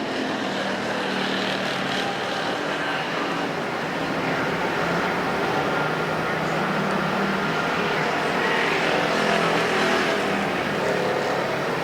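Factory stock race cars roar around Perris Auto Speedway, a dense, continuous engine drone from the pack that swells slightly as the cars pass, with no voices over it.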